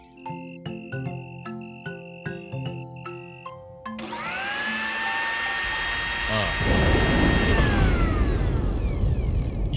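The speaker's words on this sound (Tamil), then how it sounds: "மேகம் இடிக்குது அவ்வளவுதான்" Cartoon thunder starts after a short plinking musical jingle, swelling into a loud, crackling, rolling rumble that grows heavier and fills the rest of the moment.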